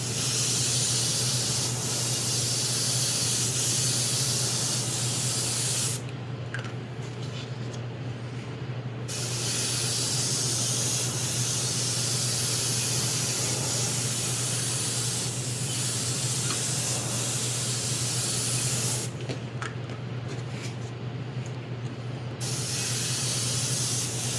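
Airbrush spraying paint onto a 1/5 scale model figure, a steady close hiss of air running almost without pause, with two short breaks where the spray stops before resuming.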